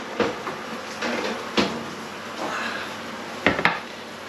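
A quiche dish lifted out of an oven, with a few sharp clinks and knocks of dish and oven rack spread across a few seconds, then a quick double clatter near the end.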